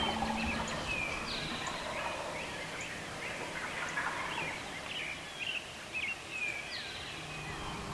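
Wild turkeys gobble from the roost among hens before fly-down, several rattling gobbles spread over a steady outdoor wash, distant to mid-range and fairly faint, with no talking.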